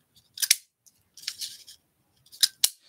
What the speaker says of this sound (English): So we're just going to punch a few holes.